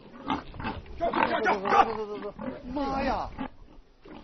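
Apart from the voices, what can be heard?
wild sow grunting while chasing people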